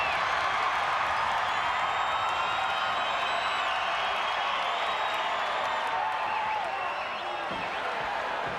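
A capacity crowd in a wrestling arena roars through an Undertaker vs. Vader WWE Championship match. The noise is loud, dense and sustained, with cheers and whoops swelling over the whole stretch.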